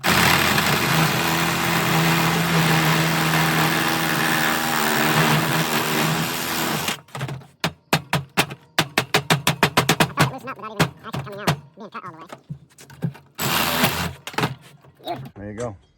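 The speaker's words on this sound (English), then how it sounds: "comes off fairly easy with the Sawzall" A Sawzall reciprocating saw cuts through the case of a squirrel cage motor, a loud continuous buzzing grind for about seven seconds, then breaking into rapid, choppy bursts of cutting strokes with brief pauses.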